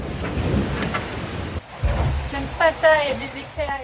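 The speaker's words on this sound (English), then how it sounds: "Lightning and thunder." Thunder rumbling during a thunderstorm off Cabo Frio, heard from a racing sailboat at sea, with rain and wind noise throughout and a voice speaking over the latter half.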